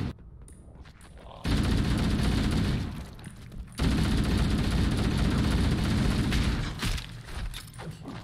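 Gunfire in the first-person shooter Halo CE, in a fight against the Flood, with loud dense bursts of shooting in two long stretches separated by a brief lull, then tapering off near the end.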